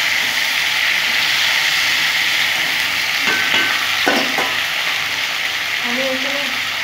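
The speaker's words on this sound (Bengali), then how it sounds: "এখন ফুলকপি আলুগুলো ভালো করে ধুয়ে নিয়েছি, এগুলো ভেজে নেব।" Cauliflower florets and potato pieces, freshly washed, fry in a pan with a steady, continuous sizzle at close range, with a brief stir or clatter partway through and no speech over it.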